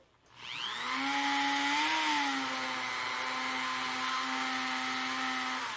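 A power carving tool fitted with a flame burr carves wood, spinning up sharply to a sustained, steady high whine with a slight pitch wobble early on. It stays close and unbroken throughout.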